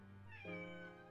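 A single clear cat meow in the video game Persona 3, short and rising then falling, heard close and alone against a quiet background.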